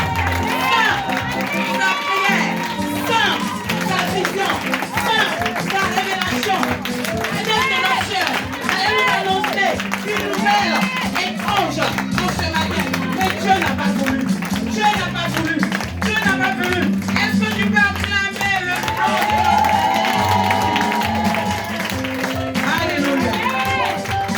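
A church congregation cheers and applauds at full volume, with sustained clapping, shouts and high voices blending into a dense, continuous roar that lasts throughout.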